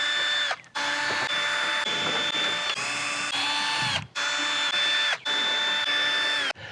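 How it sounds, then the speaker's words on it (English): A power drill backing screws out of the casing of a window air conditioner, a loud close whining motor running in several long bursts with brief stops and restarts between screws. "we have to take out the screws all around the unit to get this whole casing off of it"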